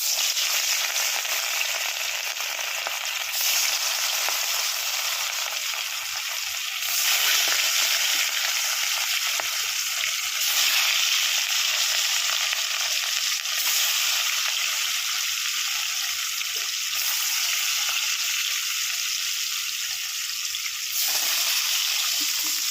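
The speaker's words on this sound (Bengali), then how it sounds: "তেল দিয়ে নিলাম, এবার মাছগুলো ভেজে নেব।" Rui fish frying in hot oil in a wok, giving a steady, loud sizzle with crackling that runs throughout, alone without talk.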